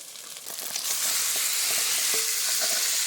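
Duck meat fries in a pan with spice paste while being stirred, a soft but continuous sizzle with scraping stir strokes that grows fuller after the first moment.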